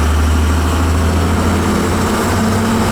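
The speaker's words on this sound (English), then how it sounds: "Got my truck running." A truck engine idles close by on a cold day, a loud, steady low rumble with an even vibrating throb and no other sounds over it.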